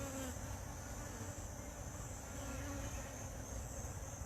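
Honey bees buzzing in and around an opened hive, a dense, continuous drone that holds steady throughout, close and enveloping with no pauses, alone without talk.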